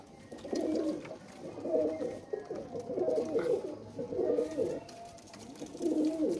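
Rampuri pigeons coo close by in soft, repeated throaty bursts, a steady rhythm of low rolling calls with brief pauses in between and no voices over them.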